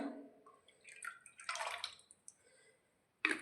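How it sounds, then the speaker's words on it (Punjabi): A capful of white vinegar poured into a tub of water for hand-washing thick blankets, heard as a few soft drips and a brief splashy trickle, followed by a sharper splash at the end, with no voices. "ਇੱਕ ਢੱਕਣ ਆਪਾਂ ਇਹਦਾ ਪਾਵਾਂਗੇ ਚਿੱਟੇ ਵਿਨੇਗਰ ਦਾ"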